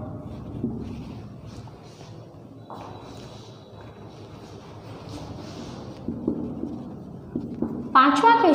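A pen or pencil scratches steadily across paper while filling in answers in a workbook, a close, continuous faint rasp, with someone speaking over it and a bright rustle at the very end.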